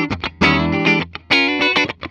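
Gibson Dragon Les Paul Custom electric guitar in the middle pickup position, played with effects and distortion: bright, sustained chords and short plucked notes in bursts, loud and close, no voices.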